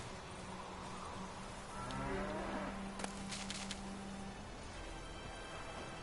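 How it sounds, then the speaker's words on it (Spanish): A cow in The Witcher 3 gives a long, low moo in a village setting, fairly faint against a steady ambient background, with a few brief clicks. "Vaca."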